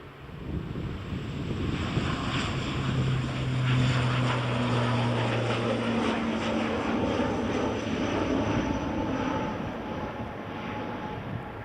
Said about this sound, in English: Delta 767 from Atlanta.